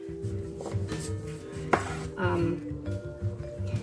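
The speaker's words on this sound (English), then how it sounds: "there's the big knife to chop that off" A big knife chops through a rutabaga on a board in a series of close, uneven thuds and knocks, with a faint hum in the background.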